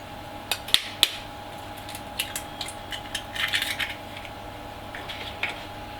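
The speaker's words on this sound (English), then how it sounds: "into a bowl I'm going to crack the eggs" Eggs are cracked on the rim of a bowl, making a few sharp close taps and clinks followed by softer shell and glass sounds against a faint steady hum, with no speech.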